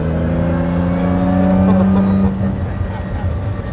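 A right-hand drive car with a torquey engine drives on a road in Italy, giving off a loud, steady engine drone heard close up from start to finish. A brief swell midway then eases slightly.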